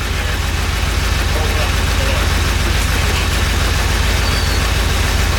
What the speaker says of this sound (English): Sorry if the traffic's loud.